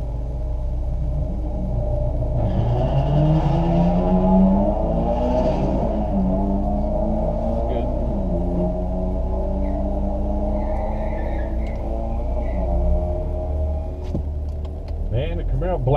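A white Honda and a silver Camaro drag race down the strip, their engines roaring and sweeping up through the gears, with an announcer's commentary mixed in.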